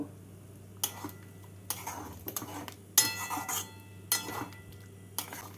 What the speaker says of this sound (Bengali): পনিরগুলোকে দিয়ে ভালো করে পোস্তর সাথে মিশিয়ে নেব